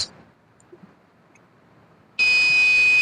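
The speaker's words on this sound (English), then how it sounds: "due to which the buzzer will ring" Quiet faint ticks, then a loud electronic buzzer alarm triggered by a wrong password suddenly sounds with a steady high-pitched tone and keeps going to the end.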